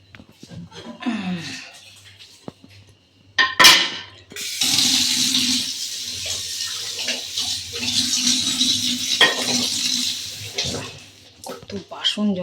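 Dishes, including tea things and tiffin boxes, are washed at a kitchen sink. After a few clinks, tap water runs steadily and fairly close for several seconds, with a voice speaking now and then.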